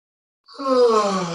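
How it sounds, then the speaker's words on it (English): One person gives a long, exaggerated yawn that opens suddenly and swells into a drawn-out, moaning vocal stretch, close and clear, in a voicework exercise. "Little yawning, really exaggerate the yawn."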